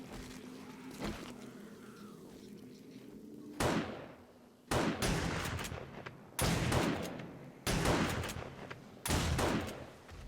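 Shots fired at zombies in the survival game 7 Days to Die: about five loud, sharp gunshots ring out at spaced intervals, each trailing into a short echo, over a quiet background with faint insect-like buzzing.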